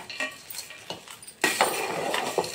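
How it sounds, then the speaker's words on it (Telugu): A spoon stirring freshly tempered food in a metal pot, with scraping strokes and light clinks against the sides, faint at first and then louder and busier halfway through. "ఇప్పుడు దీన్ని మనం కలిపేసుకుందాం"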